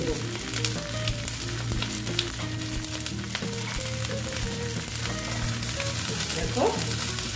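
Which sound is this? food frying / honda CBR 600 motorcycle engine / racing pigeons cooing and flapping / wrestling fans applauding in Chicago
food frying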